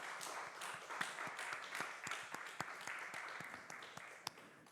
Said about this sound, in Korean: 우리 하나님 앞에 감사의 박수 올려드립시다.